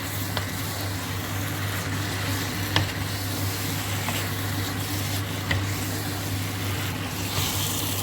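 Kale (saag, grünkohl) cooks in a pan with a continuous, even sizzle over a low steady hum, broken by a few soft ticks and stirring sounds.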